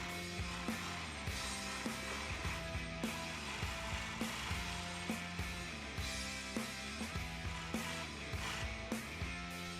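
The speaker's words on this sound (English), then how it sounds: "Attach the donor sleeves with edging machine." An edging machine sews donor sleeves onto a vintage 90s Nirvana Sliver t-shirt during a restoration, giving a steady, loud mechanical whir with regular rhythmic clicks and ratcheting pulses throughout.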